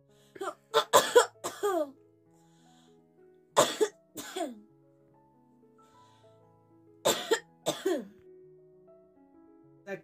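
One person coughs in three separate bursts of two or three harsh coughs each, close and fairly loud, with quiet pauses between them and no talk.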